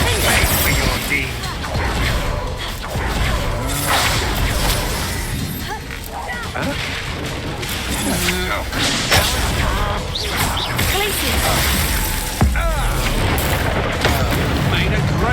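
A Confringo fire spell is cast in the Hogwarts Legacy video game, giving loud booms, crashes and whooshing blasts in a dense battle mix, with voices calling out over the fighting.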